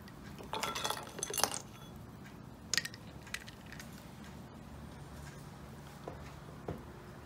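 Ice cubes clink against a glass or cup, being melted to cool a temperature sensor on a Mercedes-Benz W124. Several light, close clinks come in clusters early on, then sparse faint ticks over a steady low hum.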